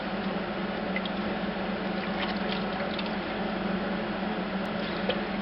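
A cashmere sweater being rinsed by hand in a basin of water, soft continuous sloshing and light dripping close by, quiet and steady with faint squishing as the wool is moved through the rinse water.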